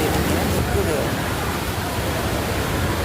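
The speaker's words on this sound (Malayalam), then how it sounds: "പുറത്ത് ഭയങ്കര മഴയാണ്. മഴ തോരുന്നില്ല." Heavy rain pours steadily outside, a dense, loud broadband hiss that holds constant for the whole stretch with no breaks.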